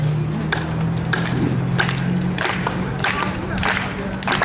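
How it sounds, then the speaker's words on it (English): A crowd claps together in a slow, steady rhythm over a noisy room with a low electrical hum. "I'd like everyone to do a clap for me"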